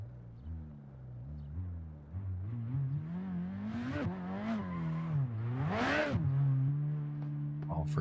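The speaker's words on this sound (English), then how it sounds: "Look at that 4-cylinder fire off." A 4-cylinder 2AR-engined drift car in a Pittsburgh qualifying run, engine droning then revving hard with pitch swoops and a sharp rising burst near the end, loud and steady, with faint tire noise.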